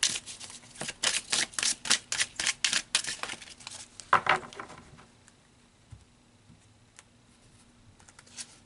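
Tarot cards are shuffled by hand in quick, rhythmic riffling bursts, then a few cards are pulled with softer, scattered snaps and slides that fade into near quiet.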